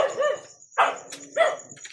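Dogs bark outdoors in the early morning, three short, separate barks spaced evenly apart with quiet gaps between them, moderately close.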